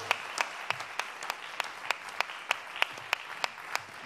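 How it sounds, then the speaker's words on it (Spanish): Audience applause at the Maketón Maeloc 2020 music awards ceremony for the best self-released album, a steady patter of clapping with sharp periodic claps standing out, moderately distant in a hall. "Un aplauso."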